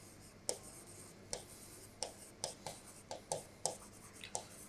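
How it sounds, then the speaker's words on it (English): Marker or chalk strokes on a board during a geometric-mean maths lesson, a quiet series of short scratchy taps and squeaks in an irregular rhythm, close and faint with no talk. "let me write it here"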